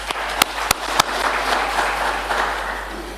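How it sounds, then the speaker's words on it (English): Applause for committee members and a minister at a workplace safety and health event, a few sharp early claps swelling into a steady moderate patter that holds for about three seconds. "May we give a round of applause to the Honorable Portfolio Committee members and the Minister who are"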